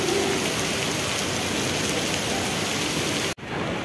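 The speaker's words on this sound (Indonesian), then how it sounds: "di sini sudah agak reda ini untuk hujannya sahabat di terminal Kampung Rambutan" Steady rain falling at Kampung Rambutan bus terminal, a dense even hiss of drops on surfaces close by, continuous and fairly loud, with a brief dip near the end before it resumes.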